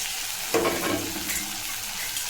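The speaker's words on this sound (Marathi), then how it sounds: "याला पण दोन ते तीन मिनिट तेलात फ्राय करून घ्यायचं आहे" Tomatoes with green chili and garlic paste fry in oil, giving a steady close sizzle with a brief louder stir or splash early on, no talking.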